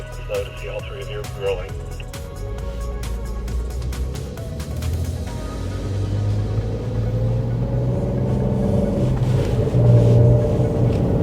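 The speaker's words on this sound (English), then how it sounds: "now it'll bump the rev limiter if you don't shift" A Porsche engine revs hard on a race track in manual mode, a loud steady low drone that climbs toward the end, with someone talking over it throughout.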